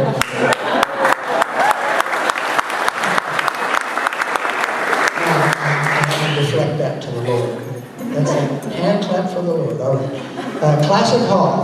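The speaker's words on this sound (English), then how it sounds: "I never got applause for prayer." Audience applause breaks out after a closing prayer at a memorial and plaque unveiling, dense clapping for about five seconds, then a voice talks over the fading crowd noise.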